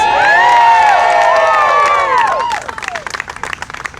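A crowd at a teacher recognition event cheers loudly with high whoops and shouts, then the yelling thins out into scattered clapping and applause.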